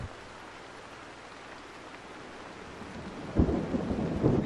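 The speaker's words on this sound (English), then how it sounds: "I can't see anything in this rain" Steady rain hisses in the Sudden Strike 4 war game, then a deep thunder rumble rolls in near the end, fairly faint overall.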